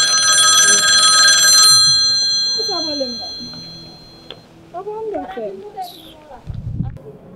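A telephone bell rings in a rapid, bright trill for about two seconds, then stops, followed by people talking and a short low thump near the end.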